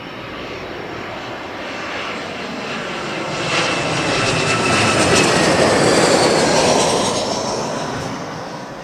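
Aircraft landing at an airport, a loud jet roar that swells toward the middle as the plane passes close, rumbling broadly and then easing slightly, with no talk.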